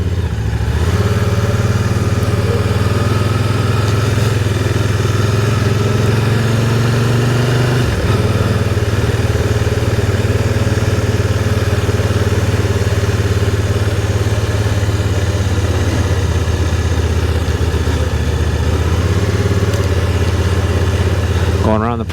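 A Can-Am Spyder three-wheeled motorcycle rides slowly around a parking lot, its engine a loud, close, steady drone with small shifts in revs throughout.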